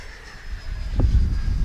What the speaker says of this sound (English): the Vulcan is just a locked-in, solid flying plane. That's about half throttle right there